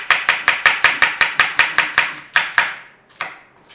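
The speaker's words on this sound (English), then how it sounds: "we just want to be slicing up an onion" Knife slicing an onion on a cutting board: a quick, loud, steady run of about fifteen crisp chops close by, slowing to a few scattered cuts at the end, with no talking.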